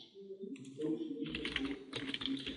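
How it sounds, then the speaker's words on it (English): Rapid typing on a computer keyboard while entering a token name, steady close keystrokes running throughout with some speech-like sound mixed underneath. "Let me just quickly look so I don't type this wrong"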